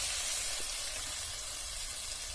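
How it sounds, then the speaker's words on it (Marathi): Kothimbir vadi, coriander fritters, fry in shallow hot oil, giving a steady, soft sizzle and hiss that runs evenly throughout with no voices over it. "आता तेल चांगल्या प्रकारे तापलेलं आहे तरी आपण वडे टाकून घेऊ थोड्या तेलात"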